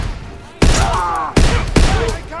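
Rapid bursts of gunfire in Call of Duty WWII, three loud, close volleys with sharp onsets and sustained rattling tails, booming and echoing in a factory battle setting.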